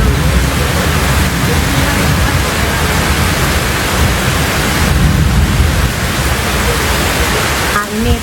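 Steady broadband rush of river water flowing below a housing area after rain, loud and continuous, with faint voices underneath.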